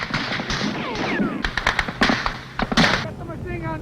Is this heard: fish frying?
no